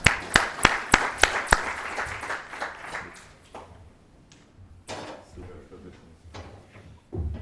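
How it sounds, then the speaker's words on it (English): A conference audience applauds after a keynote presentation on fiscal sustainability: a burst of sharp, loud claps that soon thins into scattered, fading clapping and room noise. "a round of applause"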